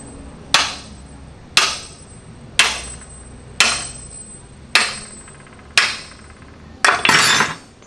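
A heavy hammer striking metal on a Stug III G tank under restoration, seven sharp ringing blows at a steady roughly one-second rhythm, close and loud, with the last strikes coming quicker and harsher.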